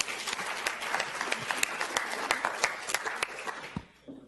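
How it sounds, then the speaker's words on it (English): An audience at a preprint workshop applauds for several seconds, a dense, steady round of clapping heard from within the room that fades out quickly at the end. "let's give them a round of applause."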